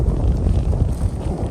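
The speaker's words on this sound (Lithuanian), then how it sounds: "tai yra žiauriai šaltas vėjas" Cold wind blows across an open raspberry field during spring planting, a loud continuous low rumble buffeting the microphone with no talking.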